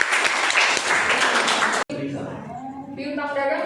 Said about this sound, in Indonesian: beri tepuk tangan dulu buat kedua kelompok